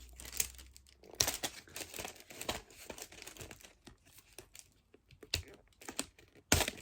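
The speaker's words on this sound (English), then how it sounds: "I'm gonna have to rip it open." Plastic button packaging is torn and crinkled open by hand, close and fairly quiet, with irregular crackling rustles and a few sharper rips.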